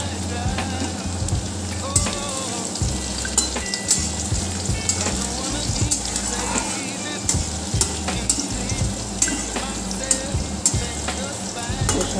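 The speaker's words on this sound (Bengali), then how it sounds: "রসুনটা একটু ভাজা ভাজা হবে" Chopped garlic and whole cumin fry in hot oil with a steady close sizzle, broken by regular knocks and scrapes of a spatula stirring the pan, the rhythm repeating throughout with no talk.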